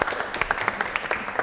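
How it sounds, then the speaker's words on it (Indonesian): A short burst of applause for a presenting group of students in a classroom, light, quick clapping from a small audience, fairly faint and close. "Aplaus untuk kelompok"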